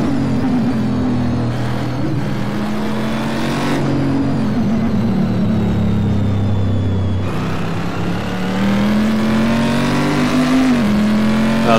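Chevrolet Camaro GT mod car from a racing video game at full throttle, with a loud continuous engine roar rising in pitch through the gears, brief dips at shifts and a steady tire and road rumble beneath, no talk.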